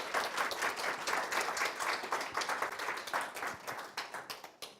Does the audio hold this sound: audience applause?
yes